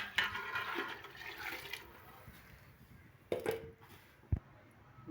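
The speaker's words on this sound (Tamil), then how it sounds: "இப்போ இந்த தண்ணி ஊற்றிக்கலாம்." Water is poured from a measuring tumbler into a cooking pot for chicken biryani, giving a faint sloshing and splashing with a couple of sharper splashes and a knock, quiet and close.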